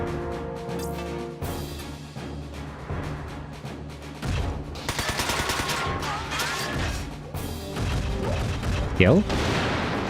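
Shotgun blasts against Wanzer mechs in the video game Front Mission 4 crack out amid dense, continuous game noise and music, with a brief spoken exclamation near the end.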